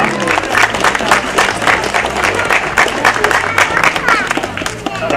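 An audience at an event claps steadily in welcome, dense applause from a crowd that keeps a lively, even patter throughout, with a speaker's voice faintly mixed in.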